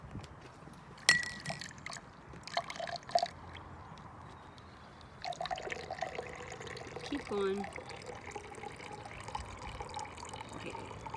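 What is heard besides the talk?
water being poured into a glass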